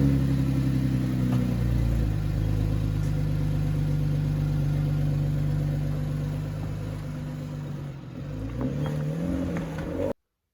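A 5th gen 2010-2013 Chevrolet Camaro's engine runs close by, holding a steady deep idle with a brief dip and small rise in revs near the end before cutting off abruptly.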